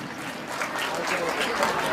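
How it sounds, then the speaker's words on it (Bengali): An audience at a golden jubilee event gives a geography professor a steady round of applause. The clapping is dense and continuous and rises slightly toward the end. "একবার জোরে হাততালি স্যারের জন্য।"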